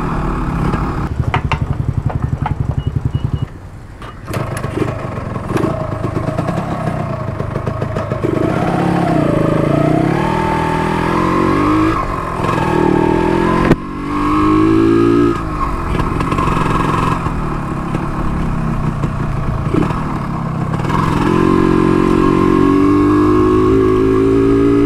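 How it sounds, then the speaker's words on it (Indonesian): A Yamaha RXZ motorcycle engine idles and revs steadily up close for the whole stretch, its pitch rising and falling with throttle blips and no voices over it. "Saja running motor ni"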